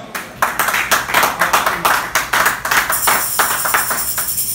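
A congregation clapping together at a lively church service, steady rhythmic claps sounding moderately close, with a chanting voice or music blending faintly underneath.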